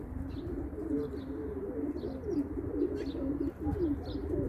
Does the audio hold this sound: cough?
no